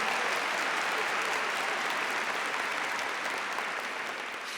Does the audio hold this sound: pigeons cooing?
no